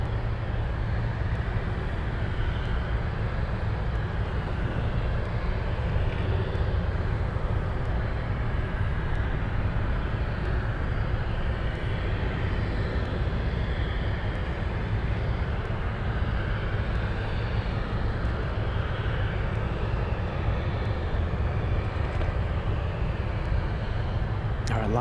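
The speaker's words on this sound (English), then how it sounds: "We have Alaska Airlines flying in from Seattle on final approach" An Alaska Airlines jet from Seattle on final approach to runway 33 at Anchorage airport gives a steady, continuous low roar and rumble that holds at an even, moderate loudness throughout, with no talk over it.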